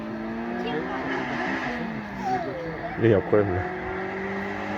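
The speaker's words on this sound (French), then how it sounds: "BMW M3." A BMW M3 race car at a historic hill climb, its engine droning steadily and then briefly swelling louder as it goes by, with people chatting nearby throughout.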